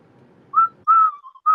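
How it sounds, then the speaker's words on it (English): A person whistles a short tune of three clear, bright notes, the middle one held longer and slightly wavering, loud and close after a moment of faint background murmur. "We can hear you whistling."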